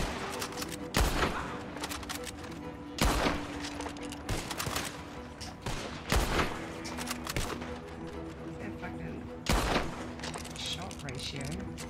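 Bursts of gunfire in a video game ring out at intervals, sharp loud volleys separated by quieter stretches of in-game ambience, with a player talking in the background.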